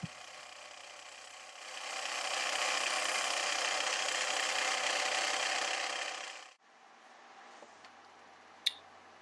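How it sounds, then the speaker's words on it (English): A round nose scraper takes fine shavings from a wooden paper towel holder turning on a lathe, giving a steady whirring rasp that rises, holds for several seconds, then cuts off abruptly, leaving a quieter motor hum and one faint click. "Final shaping is being done with a round nose scraper"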